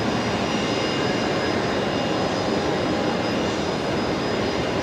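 A Qantas Boeing 737 taxiing for departure at Brisbane Airport at night, a loud, steady jet engine roar and broadband rumble held without change throughout, close by and unbroken by voices.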